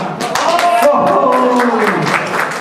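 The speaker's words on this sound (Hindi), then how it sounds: "जोरदार तालियों से" An audience at a homeopathy festival event claps loudly and continuously, a dense wash of hand claps mixed with crowd voices and a hum of chatter throughout.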